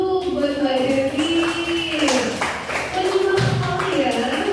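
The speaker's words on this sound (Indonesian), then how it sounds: "Tepuk tangan dulu buat Mbak Devi" A classroom group claps for a student, Mbak Devi, after a micro-teaching lesson, with light patters of hands running beneath a voice that talks throughout.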